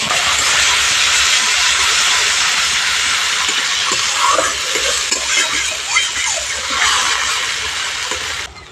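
Spice paste hitting hot oil with whole garam masala for a prawn malai curry, giving a loud, bright, continuous hissing sizzle with small crackles, easing slightly near the end.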